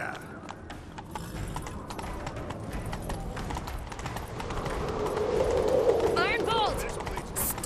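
A horse gallops in The Witcher 3: Wild Hunt, with steady rhythmic clip-clop hoofbeats and clinking tack throughout, while voices are heard briefly in between.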